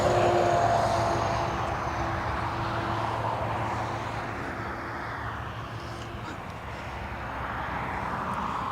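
A Ryanair airliner arrives at Dublin Airport, its jet engine roar steady and loud, slowly easing off then swelling slightly again as it passes, with no talking.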